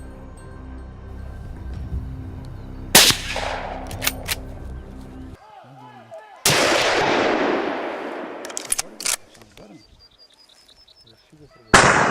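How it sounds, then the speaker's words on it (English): A hunting rifle fires at a wild boar: a few sharp, loud bangs with broad decaying tails, spaced seconds apart over a quieter tonal background. "A single, accurate shot rang out."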